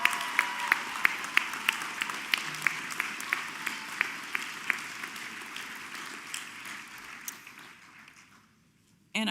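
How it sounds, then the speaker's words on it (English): A commencement crowd applauds at a 2024 graduation ceremony. The sustained clapping carries sharp individual claps near the front, then gradually fades out until near silence. "So please, a round of applause for Marisa."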